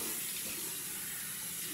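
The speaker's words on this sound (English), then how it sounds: "you want to go ahead and wet your face with warm water to open your pores" Warm water runs steadily from a tap into a sink for face washing, a constant close, bright splashing hiss with no pauses or voices.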